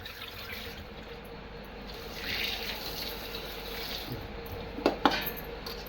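Leafy taikulya greens being washed and rinsed in water make a continuous gentle splashing and swishing, with a few sharper splashes near the end.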